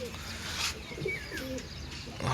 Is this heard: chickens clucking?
no